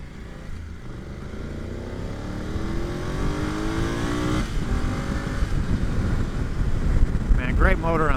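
BMW F900GS Adventure motorcycle underway, a 2025 model: steady engine drone that rises in pitch as it accelerates, with wind rush around it and a brief burst of noise near the end.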